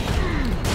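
Fireworks going off in the Serious Sam 4 video game, a dense crackling barrage of pops and bangs with a descending whistle, loud and continuous through a short burst.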